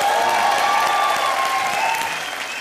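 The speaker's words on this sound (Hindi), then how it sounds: "जोरदार तालियां हो जाए" Studio audience at a Hindi comedy show, Comedy Nights Bachao, bursts into loud, dense applause that holds steady, thinning slightly toward the end, with no talking over it.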